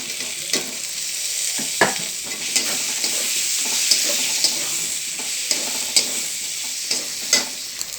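A mackerel curry masala with fried potatoes sizzles steadily in a pan while a spoon scrapes and stirs it in repeated short strokes.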